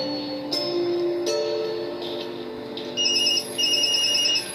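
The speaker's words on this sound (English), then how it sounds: "Sorry, Yumi, that's my phone" An in-game phone rings in Tokyo Dark, a bright electronic ringtone chirping in short repeated bursts over soft background music, close and moderately loud.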